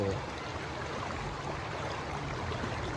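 A stream (arroyo) in Axtla de Terrazas, San Luis Potosí, its water flowing as a soft, even rushing hiss that holds steady and fairly faint throughout.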